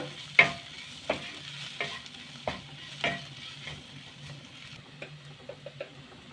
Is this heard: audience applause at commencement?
no